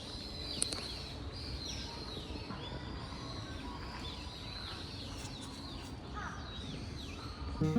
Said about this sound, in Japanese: この橋の上に立ち耳を澄ませると鳥の鳴き声が